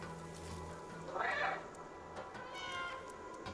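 Cat meows from the video game Stray, a clear mewing call standing out over steady background game ambience, with a second fainter meow following shortly after.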